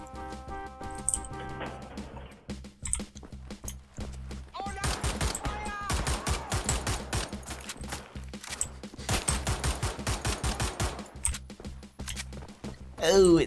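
Rapid bursts of gunfire cut down Nazi soldiers in Wolfenstein: The New Order, sharp repeated shots clustered in volleys with short gaps, under intermittent speech throughout.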